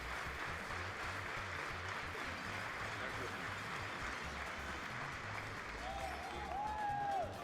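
Audience applause at a televised event, a steady dense wash of clapping from a crowd sustained throughout, with some low background sound beneath it.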